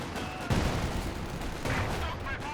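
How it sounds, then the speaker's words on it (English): Mortar and small-arms gunfire in the Company of Heroes strategy game: a dense, continuous battle din with a couple of heavier impacts standing out, steady and fairly loud. "Mortar gets a good shot there."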